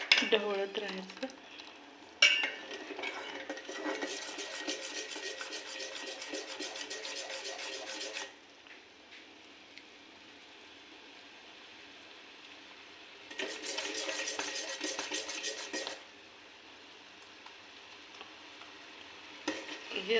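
A spoon scrapes and stirs bubbling sugar syrup in a pan for rava laddoo, with two long stretches of steady, close rasping stir separated by a quieter simmering pause.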